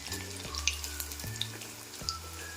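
Soybean pakoras fry in hot oil with a steady, soft sizzle. Three distinct clunks or pops from stirring or moving them in the pan break through at regular intervals, close and moderately quiet.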